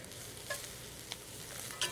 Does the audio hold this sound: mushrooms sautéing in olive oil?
yes